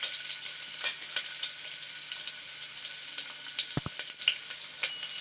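Thinly sliced onion sautés in a pan for tomato pulao, a steady close crackling sizzle with soft stirring scrapes and a couple of louder pops, with no talking.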